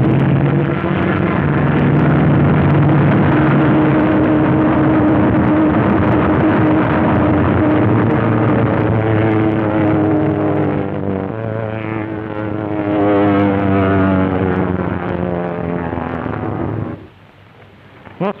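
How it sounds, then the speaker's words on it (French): Pre-WWII RAF aircraft diving at around 500 km/h, a sustained loud propeller engine drone with shifting pitch and steady roar for many seconds, cutting off abruptly near the end. "le sensationnel bombardement en vol piqué. 500 km à l'heure"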